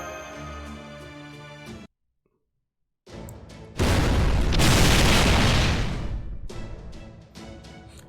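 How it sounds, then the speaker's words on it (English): A cannon fires in the game Fate/Grand Order: a deep, loud boom and sustained blast rise after a brief silence and fade over several seconds, with game music before and after. "How do you like my little cannon here?"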